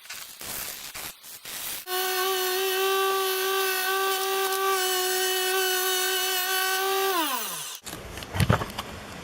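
A buffing wheel polishes a stabilized elk burl and antler knife handle cast in resin, giving a loud, steady motor whine that holds for several seconds and then winds down, with brief handling knocks before and after.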